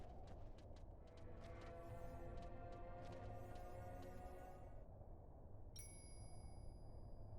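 A bell chimes in Final Fantasy XI, clear ringing tones over a repeating musical backdrop of plucked notes, then a bright sustained high chime rings out near the end.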